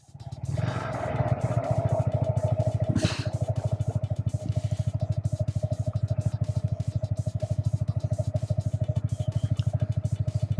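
A car on the Great Yarmouth seafront runs close by with a loud, steady, rhythmic engine throb that pulses evenly throughout, with no talk over it.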